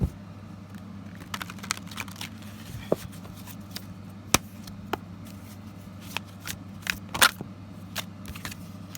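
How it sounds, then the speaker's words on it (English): Tarot cards are shuffled in scattered soft riffles and taps, with occasional sharper snaps, over a low steady hum. "it's just one of those decks that doesn't like to shuffle very well"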